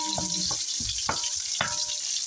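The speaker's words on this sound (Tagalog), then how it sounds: "Toasted natin yung bawang ha." Chopped garlic sizzling and toasting in hot oil as a pansit palabok topping, with soft frying hiss and several short stirring scrapes close by, no talk.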